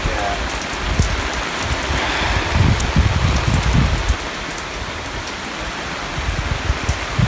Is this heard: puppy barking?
no